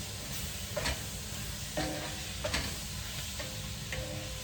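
A chicken and spinach stir-fry sizzles softly in a pan while a utensil stirs it, with a handful of light scrapes and taps spaced over a low, constant hiss.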